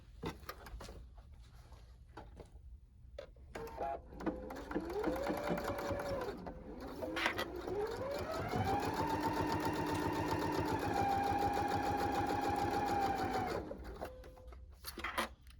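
A sewing machine stitches the seam of a lacy zipper bag, its motor whirring up in pitch and running steadily with a rapid needle chatter, close and loud, after a few short starts.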